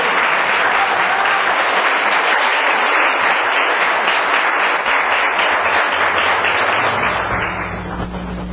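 Audience applause fills a church broadcast, a loud, dense, sustained clapping that carries without pause and eases slightly toward the end.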